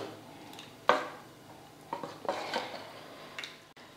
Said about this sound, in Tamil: மாவில் சேர்த்துட்டு இப்போ நல்லா கலந்துக்கலாம்